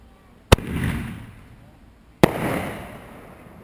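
Two fireworks burst outdoors about two seconds apart, each a sharp loud bang followed by a rumbling, fading tail.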